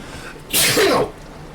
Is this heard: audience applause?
no